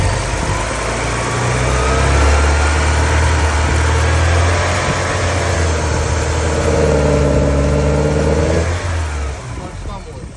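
A Porsche 944 with a running fault idles with a steady, close engine hum, then gentle throttle lifts the revs briefly before they settle back down.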